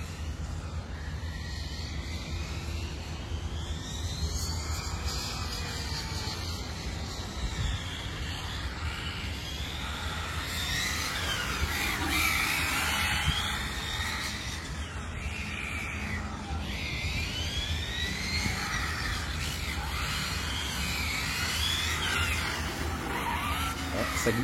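Arrma Infraction 6S radio-controlled car drifting, its high electric motor whine rising and falling continuously with tire scrubbing and squeal on pavement, steady and fairly close.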